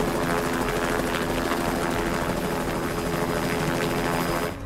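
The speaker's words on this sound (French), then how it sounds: "Envoyez 2 autres hélicos en vitesse." Helicopters in a film action scene, a loud, steady rotor and turbine roar filling the whole clip without break, close and dense, with no voices over it.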